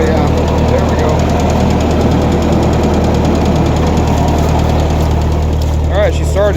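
A cheap refurbished tractor's engine, just started with the choke, idles in a loud, steady, knocking rumble throughout, with a voice briefly heard near the end.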